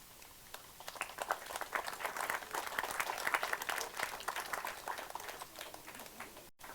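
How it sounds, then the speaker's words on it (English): A memorial audience claps for the speakers, a soft, distant round of many hands that swells, holds steady for several seconds, then tapers off near the end. "can we have another round of applause for everyone who spoke, please?"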